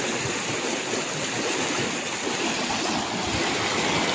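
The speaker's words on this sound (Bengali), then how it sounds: "ঝর্ণার জল একদম পাশে থেকে দেখাবো আপনাদেরকে" A waterfall in Uttarakhand near Dogadda, its water rushing in a steady, full hiss that holds without a break, loud and close at hand with no voices over it.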